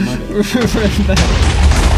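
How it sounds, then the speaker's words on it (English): TNT explosions in the Minecraft video game, loud booming blasts with a rough rumbling tail, heavily overlapping and continuous, with voices talking and reacting over the detonations. "We're just making explosions."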